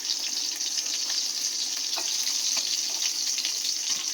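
Whole cumin seeds and cinnamon tempering in hot oil for a Bengali home-cooked dish, giving a steady, close, even frying sizzle with faint crackles and no talking.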